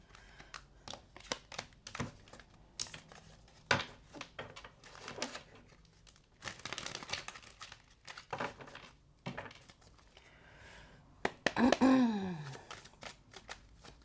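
Tarot cards are shuffled close by in quiet, irregular bursts of soft riffling and snapping, with brief pauses between and a sharper burst near the end.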